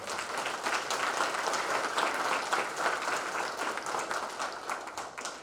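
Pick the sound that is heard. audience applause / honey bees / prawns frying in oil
audience applause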